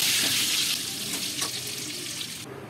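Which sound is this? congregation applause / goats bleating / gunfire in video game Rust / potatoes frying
potatoes frying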